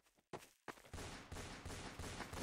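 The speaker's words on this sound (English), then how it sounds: "I hear gunfire." Distant gunfire from a Garry's Mod firefight, a dense, continuous crackle of overlapping shots that starts after a brief quiet moment and keeps rolling without any talk.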